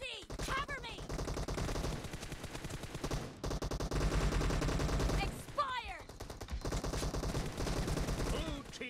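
PUBG Mobile gunfire rattles in rapid automatic bursts, dense and loud, with short pauses between strings of shots and some in-game effects mixed in.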